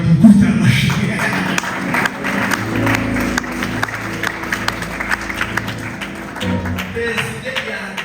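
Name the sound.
audience applauding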